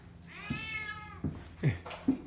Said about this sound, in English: that was the kitty complaining about the noise